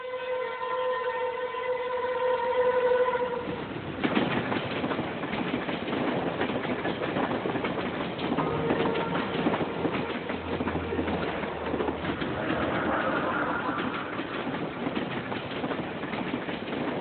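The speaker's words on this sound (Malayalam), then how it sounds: "ഈ പാലത്തിലൂടെ ട്രെയിൻ കടന്നു പോകുന്ന ഈ മനോഹര ദൃശ്യം" A train crosses the arched stone-block Punalur–Shenkottai bridge. Steady horn-like tones sound for a few seconds, then give way to a continuous broad rumble of the passing train that lasts to the end.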